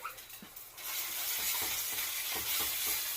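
Ginger and garlic hit a hot pan for beef lo mein, bursting into a loud, steady sizzle after a brief quiet start, with a few soft stirring knocks underneath, close and alone.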